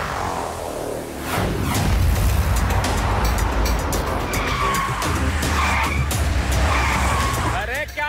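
A cartoon car skids to a stop with a long, loud tire screech over engine noise in an animated kids' episode, the squeal holding for several seconds before a voice begins speaking at the end.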